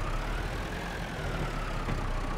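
Steady low engine drone of a tractor in a farming video game, a continuous idling hum with no speech over it.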